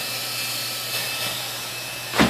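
A banner heat welder's hot-air nozzle blows a steady, loud broadband hiss with a faint whine running through it, ending with a short louder burst of air.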